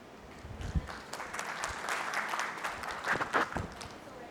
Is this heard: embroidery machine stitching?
no